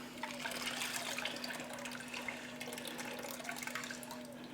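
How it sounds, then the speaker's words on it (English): Water is poured out of a cooking pan after pork spare ribs have been parboiled. It makes a continuous close splashing gush with a low steady hum underneath, running the whole time. "So I'm going to empty this water out."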